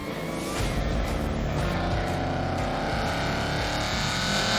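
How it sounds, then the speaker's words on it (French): A Lancia Thema 832 saloon with a Ferrari engine accelerates hard, its loud, close engine note climbing steadily in pitch for the whole stretch without a break. "la Lancia Thema 832"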